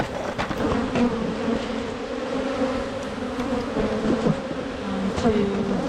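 Honey bees from an open hive drone in a dense, continuous buzz during a weekly inspection, steady and close, with a few louder individual bees passing near and no talk.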